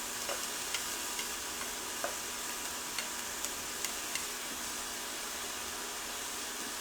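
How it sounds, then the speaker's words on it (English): Vegetables sizzle steadily in hot oil in a pan during sautéing, a continuous soft crackling hiss with light ticks and pops, close by and without talking. "you can hear that nice sizzle"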